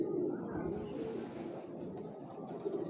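Pigeons coo in a low, continuous murmur, a steady overlapping burble from several birds close by, with no talk over it.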